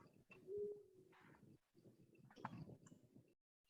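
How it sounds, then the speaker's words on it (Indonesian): Pigeon cooing, a few soft low rounded coos repeating through the clip, fairly faint and close, with no talking over it. "Jawabannya burung merpati."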